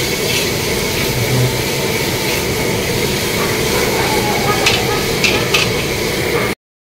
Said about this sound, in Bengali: দেখেন রসুনটা ব্রাউন হয়ে আসছে